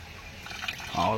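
Water pours from a pipe in a steady, fairly loud gush that swells toward the end, with voices talking over it.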